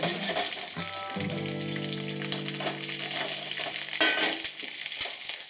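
Hot oil in a pan starts to bubble and sizzle around a tester piece, a steady crackling fry with occasional stirring clatter and a brief tonal hum, close and fairly loud with no talk.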